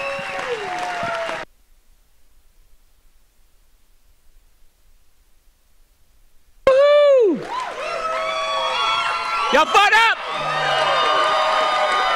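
After a stretch of near silence, a crowd at a business event erupts into loud applause and cheering with whoops, while someone shouts to the audience over the noise.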